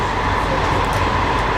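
Steady rumbling interior noise of a train riding through Morocco, a continuous loud drone with faint rattling and no pauses.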